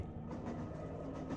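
Steady rumbling train ride in the horror game Anthology Of The Killer, a continuous low clatter and rolling drone with faint rhythmic wheel noise, moderately close and without speech.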